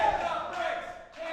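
Arena crowd at an independent pro wrestling show roaring and cheering steadily after a near-fall kick-out, a dense wash of noise that swells twice, with a commentator talking over it.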